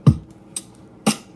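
A programmed drum kit beat made in Logic Pro: a deep kick, a brief bright hat, then a kick with a snare-like crack, three sparse close hits over about a second with no voices.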